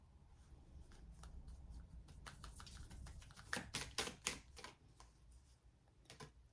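A deck of tarot cards being shuffled by hand close up, a quiet run of riffling and soft taps that builds into several sharp, rapid flutters before easing off, with no talking.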